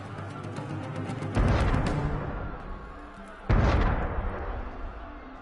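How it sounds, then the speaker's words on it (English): Two heavy booming video-game cannon blasts in Assassin's Creed Unity, the first around a third of the way in and the second later, each with a rumbling tail over background noise. "That was cannon fire."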